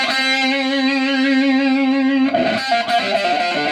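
Electric guitar through a Digitech Crossroads pedal with distortion at maximum gain: a long sustained, heavily distorted note rings out, followed by gritty, choppier playing, loud and alone.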